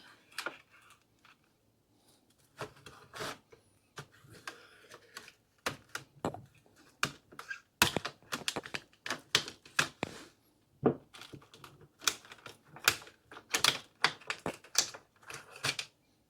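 Brookstone prep knife set, including a chef's knife with blade keeper and a small prep knife, being pulled from its packaging: a long run of sharp, irregular crackles, snaps and taps, close and fairly loud, with no talking.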